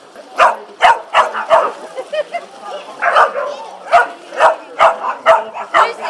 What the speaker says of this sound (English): We weren't sure if our dog Lucy would get in, but she's having fun